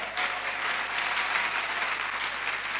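A church congregation applauds in a steady, dense burst of clapping that fills the room from start to finish, with faint voices mixed in.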